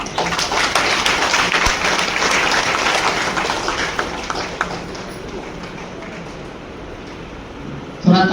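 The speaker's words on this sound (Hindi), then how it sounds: "आप लोग थोड़ा ताली बजाइए" Dense, sustained clapping from a large crowd of women at a farmers' producer company annual general meeting, loud and steady for about eight seconds before easing slightly, with a brief louder burst at the very end.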